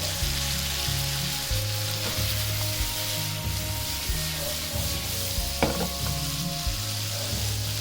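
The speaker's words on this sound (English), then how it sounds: "Now I'm going to fry my masalas." Masala sizzling in ghee in a pan, a steady dense frying hiss with faint clinks of stirring throughout, close and moderately quiet, with no talk.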